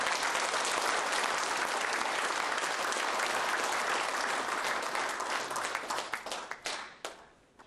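A large audience at a 2009 inauguration ceremony for a UN peace forces memorial association breaks into dense, sustained applause. It stays full and steady, then thins into scattered claps and fades out.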